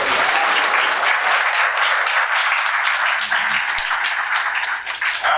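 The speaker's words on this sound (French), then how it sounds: "Vous pouvez acclamer très bien." Wedding guests at a civil ceremony applaud steadily, a dense and loud round of clapping from a close crowd that runs the full length, with a few sharper individual claps standing out near the end.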